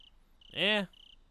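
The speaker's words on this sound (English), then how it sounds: "The voice of the crickets rang out, seeming to laugh at me" Faint, steady cricket chirps in the video game Higurashi When They Cry Hou pulse in the background, briefly covered by a louder, swelling tonal sound in the middle before the chirping resumes.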